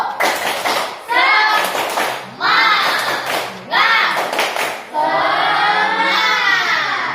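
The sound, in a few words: pupils doing the tepuk semangat clapping routine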